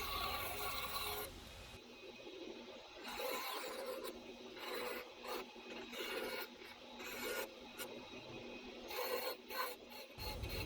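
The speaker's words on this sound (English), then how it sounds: "I'm just kind of sanding it down" Someone sands a wooden mold for a bow quiver, making a steady, close rasping scrape with short pauses and changes of stroke, with no talking.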